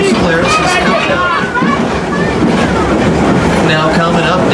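Six Flags railroad train riding on its tracks: continuous loud rolling rumble and clatter under a voice talking throughout, with crowd babble mixed in.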